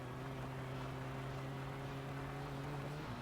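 Car engine held at full throttle in the My Summer Car rally game, a steady droning hum with a constant low tone that runs unbroken and fairly quiet throughout, with no talk.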